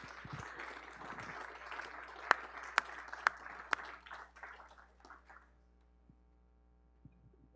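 A yacht club audience on a regatta race-day morning applauds as the regatta chair comes to the stage, with a few seconds of steady, moderately distant clapping and some sharp louder claps, then tapering into low room hum.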